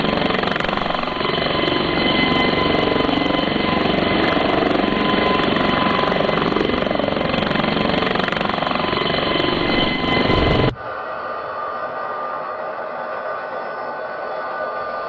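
Airbus H-135 helicopter in flight in Microsoft Flight Simulator 2020, a loud steady rotor and turbine drone that continues unbroken for about ten seconds, then abruptly drops to a much quieter, thinner cabin hum.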